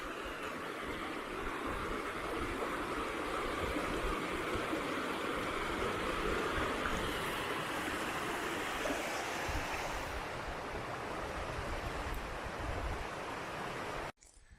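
River water in flood after November rain rushes steadily along its course, a loud continuous broadband roar that holds for about fourteen seconds before cutting off abruptly.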